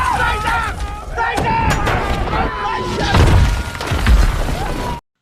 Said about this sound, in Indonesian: Tembakan artileri Jerman yang tiada henti membuat pasukan Inggris hanya bisa bertahan dan berlindung di dalam parit.